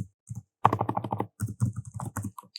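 Code is typed on a computer keyboard in quick, close, crisp clicks, grouped into short bursts with brief pauses between them and no talk.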